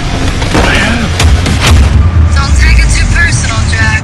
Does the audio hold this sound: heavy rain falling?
no